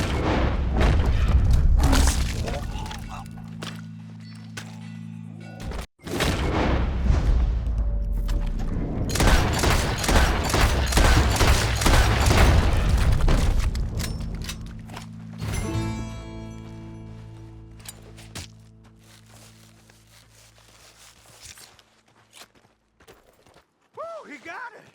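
Gunshots in the western action game Red Dead Redemption 2, a loud, dense barrage of booming shots and thuds amid clattering game noise, then fading to quieter sounds near the end, with speech mixed in.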